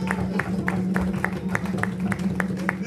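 A church congregation at a Sunday morning service claps in a steady, evenly spaced rhythm, each clap sharp and distinct over a low humming drone, loud and close.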